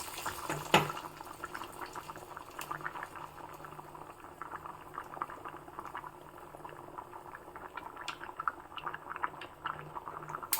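A pot of thick Mysore-style huli (lentil curry) bubbles and plops steadily, with small irregular pops and gurgles, fairly quiet and close.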